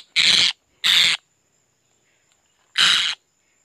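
A wild parrot in the forest gives three loud, harsh, screeching calls, two close together and then a third after a pause, with near silence in between.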